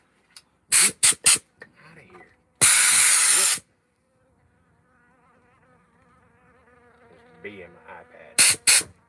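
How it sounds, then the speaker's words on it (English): A bee buzzes near a chainsaw carver working on a wooden dragon, its thin, wavering hum drifting close through the middle of the stretch, set between short, loud bursts of hissing noise. "Get out here, bee."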